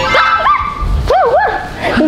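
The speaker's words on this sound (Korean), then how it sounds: "강아지야?" A small dog at home gives short, high yips and whimpering barks, close and loud, with excited rising and falling tones, while people talk around it.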